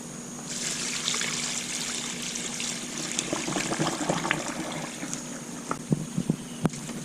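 Clean water pours steadily into a bucket of kitchen waste for liquid organic fertilizer, a continuous close trickle and splash that turns into a few louder sloshes and drips near the end, with no talking.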